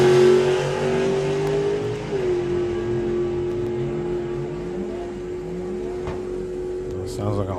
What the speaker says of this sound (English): Sounds like a whole lot of clutch slip.